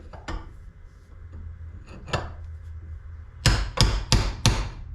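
Steel hammer blows driving a bearing race out of a trailer hub clamped in a vise: two separated strikes early on, then a quick run of four sharp, loud, ringing metallic hits near the end, with no talking.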